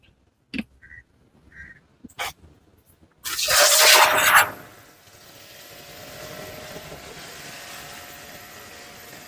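A car wash pressure washer bursts into a loud, close spray of water for about a second, set to a reduced flow, then leaves a steady hiss, after a few sharp clicks and handling knocks.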